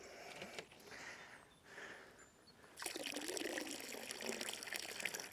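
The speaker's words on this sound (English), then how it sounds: "That's for just rinsing out the bottle." Water trickles and pours while a bottle is rinsed out beside an algae-covered pond. A softer dribble comes first, then the flow grows louder and steadier through the second half.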